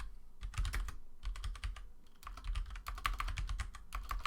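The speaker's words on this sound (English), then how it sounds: "typing is hard" Rapid typing on a computer keyboard, a steady run of close, crisp key clicks in bursts with brief pauses and no talking.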